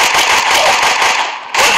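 Gunfire in the mobile shooter Gun of Boom, a dense, continuous crackle of rapid shots that keeps going almost without a break, briefly dips, then surges back loud.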